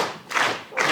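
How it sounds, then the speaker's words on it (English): A group of people claps hands together in time during a talk on the brain and pain. Two distinct, moderately loud claps land about half a second apart. "So let's just get everybody clapping."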